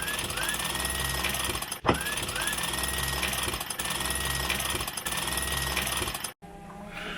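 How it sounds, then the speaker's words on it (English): Electric winch on a sailboat hoisting the mainsail, a steady mechanical whirring drone running for several seconds with brief dips before it stops abruptly near the end. "So I'm going to use our electric winch."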